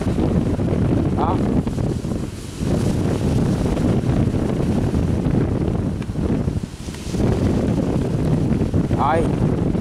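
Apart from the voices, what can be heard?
sea boat running with the waves, wind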